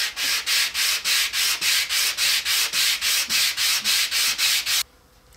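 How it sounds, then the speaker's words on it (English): Wood pieces rubbed back and forth on sandpaper mounted to a 3/4 inch MDF board for a scroll saw guitar pick holder: about fifteen even, rhythmic rasping strokes, close and steady, then a stop. "with a piece of sandpaper mounted to a 3/4 inch piece of MDF, we're just going to sand these flat surfaces on both of our pieces"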